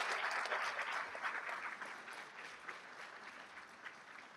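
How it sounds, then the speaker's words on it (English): Steady applause from an audience at a community college honor society induction and student awards ceremony, dense and sustained clapping that stays fairly even throughout before easing slightly toward the end. "Please give them another round of applause."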